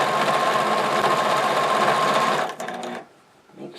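Sewing machine stitching a stocking seam, a loud steady run of rapid stitching that slows and stops near the end, leaving brief quiet with faint movement.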